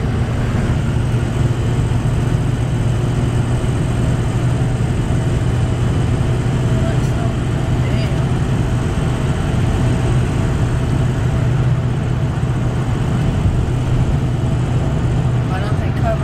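A vehicle engine hums at a steady low drone throughout a ride, close and continuous with no breaks, with road and cabin rumble underneath.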